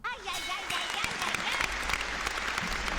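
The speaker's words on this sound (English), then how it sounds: "Press that round of applause button." Canned applause from a round-of-applause sound button, a dense steady wash of clapping lasting the whole stretch with voices and exclamations mixed in over it.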